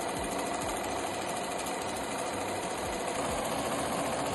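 A sewing machine runs steadily, its fast needle clatter and motor hum close and continuous while stitching foundation paper piecing.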